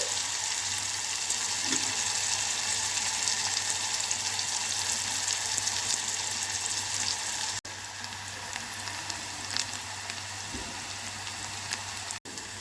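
Onions frying in oil, a steady, dense crackling sizzle that carries on evenly throughout with no voices over it.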